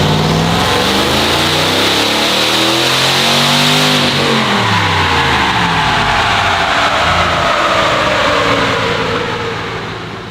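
A 1500-horsepower twin-turbo TRX truck engine revs hard on a dyno, a loud close roar climbing in pitch, peaking, then falling away as the engine winds down, with no talk over it.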